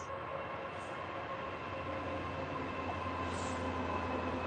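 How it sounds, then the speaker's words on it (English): A long, steady rumble of a goods train rolling past, continuous low drone with faint rail hiss throughout, no talking. "Sounds like a goods train from the length of that."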